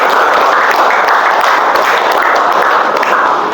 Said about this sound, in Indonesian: Kita berikan aplaus untuk teman kalian Arjuna.